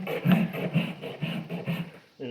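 Farrier's rasp filing a horse's hoof, rhythmic back-and-forth rough scraping strokes, about six close strokes in quick succession followed by a brief pause and another stroke.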